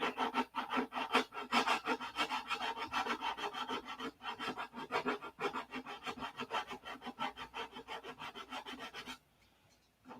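A scale model P-47 is sanded by hand, giving rapid, rhythmic rasping strokes, close and fairly loud, that run steadily for about nine seconds before stopping abruptly.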